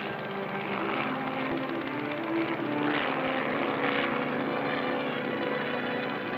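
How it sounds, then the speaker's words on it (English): A 1948 Navy helicopter in flight during sample recovery at sea, a steady droning engine and rotor hum with faint rhythmic beating, moderately loud and continuous throughout. "Among the many missions performed by the Navy helicopters, swift recovery of samples from the water and land cables proves the versatility of these craft."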